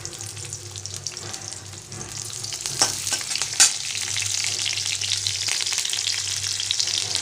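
Green chilies sizzle steadily in hot oil in a kadhai, a dense close crackle with a couple of brief louder pops, and no voices over it.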